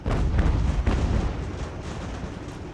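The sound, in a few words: mortar artillery fire in Ultimate General: American Revolution video game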